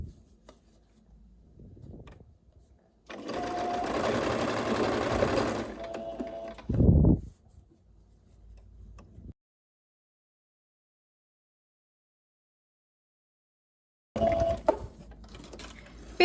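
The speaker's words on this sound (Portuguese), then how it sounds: "a gente vai passar a costura aqui na beiradinha" A sewing machine stitches a seam along the edge of bias binding on an easy flared dress, a steady motor whir for a few seconds, then a brief stop, a short second burst, and a restart after silence.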